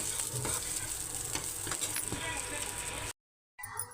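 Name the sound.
semiya vermicelli frying in ghee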